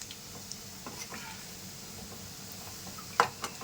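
Amaranth leaf fritters frying in oil in a kadai give a soft, steady sizzle with scattered small pops and crackles, and one sharper spatter near the end. The sound stays fairly quiet and no one talks.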